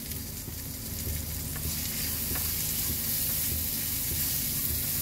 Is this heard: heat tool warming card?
no